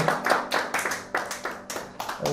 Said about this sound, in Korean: 우리 기쁨의 박수